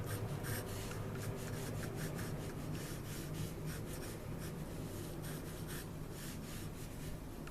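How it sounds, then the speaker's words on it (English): Pencil drawing freehand on paper, sketching a crate: a continuous soft scratchy rubbing with short repeated strokes, steady and close, with no talk. "I'm going to do this freehand now, I'm going to draw my crate"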